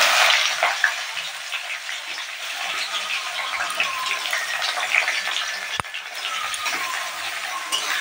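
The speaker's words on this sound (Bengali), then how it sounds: "চলো ভালো করে ভেজে নিই মশলাটাকে" Steady crackling sizzle of spices frying in hot oil, close and continuous, with a sharp tap of a utensil partway through.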